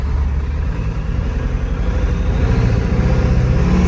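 A 1997 Ford F-250 with the 7.3 Powerstroke diesel engine drives along, a loud, steady low rumble filling the whole stretch with no talking.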